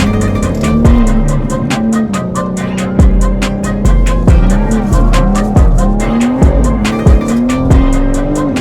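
BMW M3 driven hard in the city, repeated loud tire squeals and skids with engine revs rising and dropping between them.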